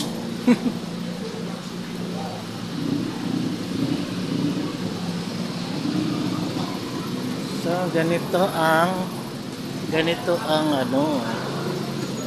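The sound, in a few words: street traffic in Chinatown, Bangkok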